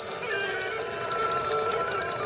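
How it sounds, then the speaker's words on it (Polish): A model boat's siren whistle gives a steady, piercing high tone for nearly two seconds before cutting off, loud and close, at a modellers' meeting in Pieczyska. "Syrena. Gwizdek."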